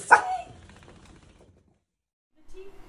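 A dog gives one sharp close bark followed by a short fading rattle, then silence and a faint voice at the end.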